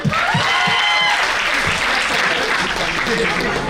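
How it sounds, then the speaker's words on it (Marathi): An audience at a youth-fest talent show applauds the children, with loud, sustained clapping and voices mixed in. "एकदा मुलांसाठी टाळ्या वाजवाय"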